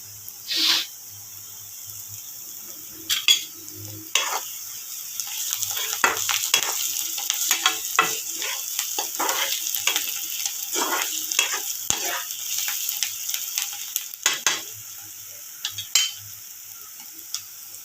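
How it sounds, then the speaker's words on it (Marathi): Onion and ginger frying in a pan for a potato bhaji, with a steady crackling sizzle and repeated scraping strokes of stirring, close and moderately loud, no talking. "त्याच्याला आपण आता भाजून घेऊया कांदा वगैरे."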